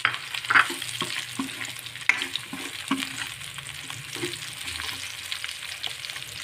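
Tofu stir-fried in a pan for a spicy bean sprout and tofu dish, a close, steady sizzle with a few spatula scrapes and clinks scattered across it.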